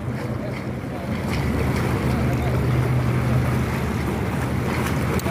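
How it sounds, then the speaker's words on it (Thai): A ferry crosses the Chao Phraya River at Tha Din Daeng, its low engine hum swelling into a steady rumble over wind buffeting the microphone and the wash of fast-moving water. "นี่นะครับเป็นเรือข้ามฟากนะครับเรือข้ามฟาก"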